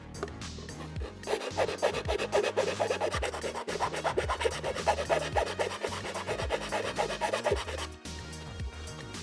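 A big square file rasps steadily across a plastic Scout Trooper helmet part, enlarging a square opening for a screw base; close, continuous back-and-forth strokes in an even rhythm, with a brief pause near the end.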